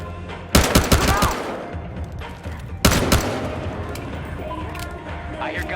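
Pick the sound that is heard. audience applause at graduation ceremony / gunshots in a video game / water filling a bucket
gunshots in a video game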